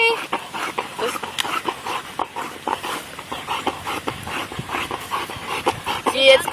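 A Labrador retriever in an episode of exercise-induced collapse pants and whimpers close by, with quick breathy rasps and a few short whines, while a person speaks over it.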